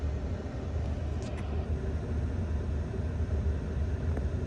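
A Ford F150 EcoBoost engine, fully warmed up, idles smoothly after repair work for a rough idle, a low steady rumble heard from inside the cab with no one speaking.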